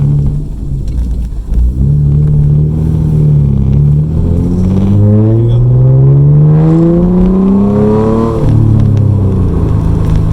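A Nissan Altima Coupe 3.5 SE pulls hard under heavy acceleration, its engine note climbing steadily through the revs before a brief upshift dip, loud and close from inside the cabin, with a short spoken phrase over the start.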